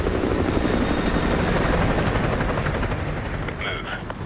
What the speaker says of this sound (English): Chopper inbound, keep low.